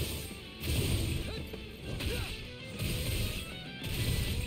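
The Vacuum Blade combat arte in Tales of Arise hits in repeated crashing, whooshing bursts with mechanical clanks, several strikes in a rhythmic combo, loud and busy, with no talking over it.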